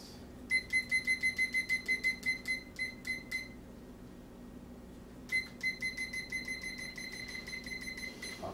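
A kitchen timer beeps in rapid, evenly spaced bursts, stops for about two seconds, then starts beeping again, loud and close in a quiet kitchen.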